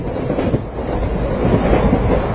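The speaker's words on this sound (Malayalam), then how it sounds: "തണുത്ത് കാറ്റുണ്ടല്ലേ?" A cold wind buffets the microphone with loud, steady rushing noise that swells slightly toward the end, with no voices.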